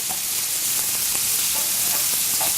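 Onions and mushrooms sautéing in a restaurant kitchen pan, a steady broadband sizzle with faint stirring scrapes throughout, close and fairly loud, no voices.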